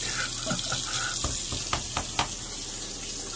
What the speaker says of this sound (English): rinse it out again and do it again you're getting the water out of the razor